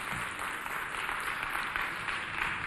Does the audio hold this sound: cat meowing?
no